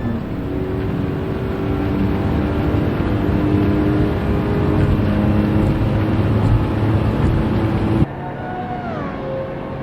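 Car engines in the video game Gran Turismo 7 roar loudly and continuously as vehicles race past, with one engine's pitch dropping sharply near the end as it passes.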